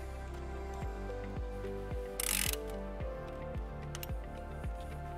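Ratchet with a 12 millimeter socket working a battery nut on a 2018 Toyota RAV4, steady rapid clicking strokes close up, with a brief burst of hiss midway.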